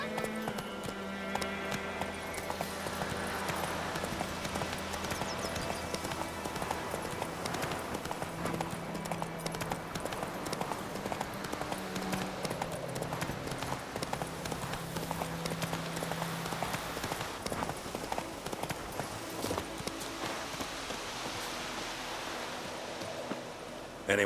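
Roach, the horse in The Witcher 3: Wild Hunt, galloping with a steady, rapid clip-clop of hooves over a constant rushing wind-like bed, carrying on loud and close for the whole stretch.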